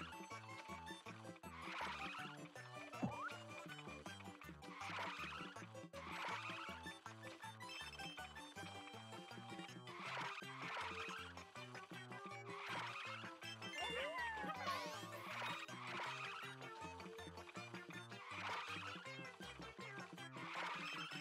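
Solar car racing minigame audio from a video game plays as a looping electronic tune with regular percussive beats and recurring chimes, steady and moderately quiet, with occasional brighter jingles layered over it.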